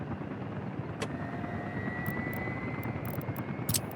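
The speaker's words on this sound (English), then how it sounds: "8 helicopters and 6 helicopters over here" Helicopters in the city-building game Workers & Resources give a steady rotor drone with a faint whine, several craft idling together under a constant background hum, with a few brief clicks.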